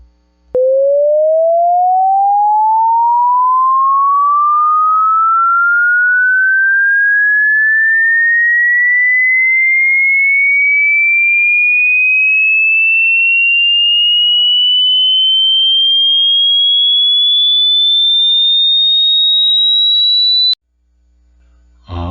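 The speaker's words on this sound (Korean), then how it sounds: "여러분들이 들으신 음은 500Hz에서 이제 4000Hz의 이제 주파수를 수입시켜 가면서 이제 들으셨는데" A pure sine tone sweeps smoothly and continuously upward from 500 Hz to 4 kHz over about twenty seconds, loud and steady, alone with silence at both ends.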